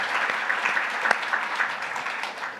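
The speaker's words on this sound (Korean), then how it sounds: "큰 박수를 패널 분들께 보내주시면 감사하겠습니다." Audience applause for a conference panel at the close of a session, steady dense clapping from a full room that carries through the whole stretch.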